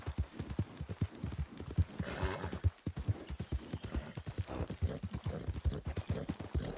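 A thoroughbred horse gallops cross country in Red Dead Redemption 2, its hooves pounding in a fast, steady rhythm that runs the whole time, loud and close, with a brief whinny partway through.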